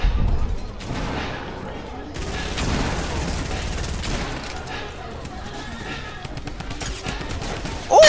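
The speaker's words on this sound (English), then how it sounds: "First kill with the drum gun back." Drum gun gunfire in the video game Fortnite crackles in dense rapid bursts, loud and continuous through the whole stretch, with a player's voice at times over the shooting.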